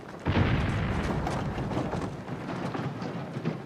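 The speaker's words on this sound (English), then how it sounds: "That's not gunfire, is it?" Distant booming bursts rumble in a dense, continuous stream, like gunfire or explosions echoing from far off, with no voices.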